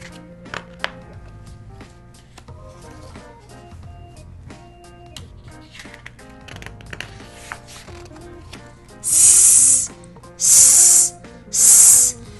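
Three loud, breathy hisses near the end, voiced in imitation of a snake, following quieter background sounds.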